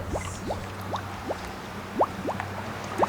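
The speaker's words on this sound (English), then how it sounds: "Bye, water. Slowly but surely." Water drains slowly from a clogged, mud-filled drain, giving a series of distinct gurgling glugs spaced irregularly, about a dozen in a few seconds, close by and alone.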